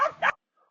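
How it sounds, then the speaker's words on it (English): A dog gives two quick, close barks, the second sharper, then a faint trailing whimper. "like dog barking"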